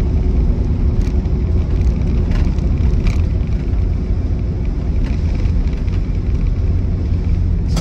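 A 1960 Cadillac Coupe de Ville drives along with a constant low rumble of engine and road noise, steady and loud from inside the cabin, with faint clicks and no voices.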